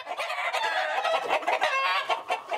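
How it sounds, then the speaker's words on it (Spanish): Gamecocks kept at a rooster-breeding yard in Soacha, Cundinamarca, cluck and crow in a dense, loud chorus of overlapping calls from several birds nearby. "En su propia casa, cuida unos 150 gallos finos."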